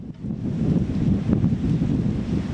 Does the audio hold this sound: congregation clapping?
no